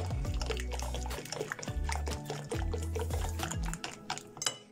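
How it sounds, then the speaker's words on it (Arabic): Water is poured into flour and stirred by hand to make briouat pastry dough, with soft liquid trickles and light mixing sounds under steady, louder background music. "شويه ديال الماء وكنحرك فيها"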